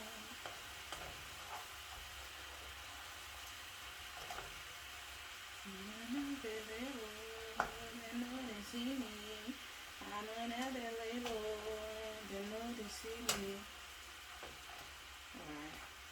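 Coconut candy mixture cooks and melts in a pan with a soft, steady sizzle and occasional stirring scrapes, while a voice hums or sings a melody over it in two stretches.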